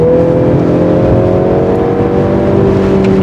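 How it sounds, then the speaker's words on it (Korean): A Mercedes-Benz C300 AMG Line gasoline engine revs and drones steadily in sport mode to about 4500 RPM, its pitch climbing slightly, loud, close and continuous with no talk. "마치 방금 RPM이 4500 정도까지 올라갔어요"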